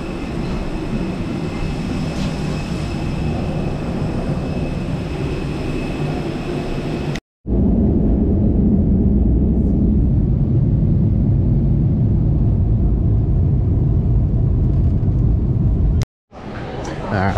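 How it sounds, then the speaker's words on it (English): Steady low cabin drone inside an airliner during boarding, a dense rumbling hum with two brief dropouts, and faint voices underneath. "We're getting on the plane now."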